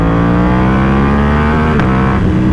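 Ducati V2 Panigale motorcycle on custom magnesium wheels accelerating hard, its engine note loud, close and steadily rising in pitch, with a gear change partway through and the roar continuing after it.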